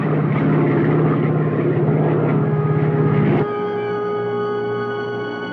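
An aircraft engine drones loudly and steadily as the plane loses altitude. Partway through, the sound shifts abruptly into a smoother, more tonal hum.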